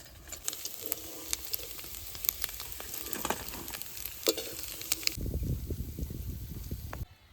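Fish fries in hot oil in a pan with a continuous close crackling sizzle. Scraping stirring sounds come through, and a deeper bubbling rumble takes over near the end.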